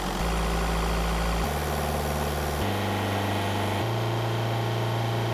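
Synthesized engine sound from an audio modulator demo: a continuous rumbling engine drone that steps down in pitch several times, like shifting RPM, loud and steady throughout.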